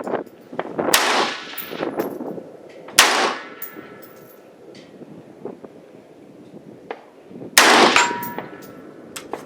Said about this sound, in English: I hear some steel ringing.